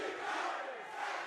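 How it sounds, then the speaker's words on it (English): Crowd roaring and cheering at a Valorant Masters esports match between Sentinels and Team Heretics, a loud sustained swell of many voices, fairly distant and continuous, with no clear talk on top. "the crowd getting involved now"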